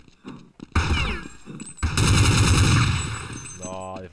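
Gunfire in the video game Counter-Strike 1.6 on a Dust map, a few sharp shots followed by a longer sustained burst of automatic fire, loud and close, with a brief electronic tone near the end.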